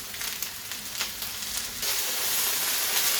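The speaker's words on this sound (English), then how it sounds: "So the okra is nicely cooking, sizzling over there" Okra frying in a hot pan for a Zambian home meal, a bright, continuous sizzle that swells suddenly louder partway through and stays close and steady with no talk.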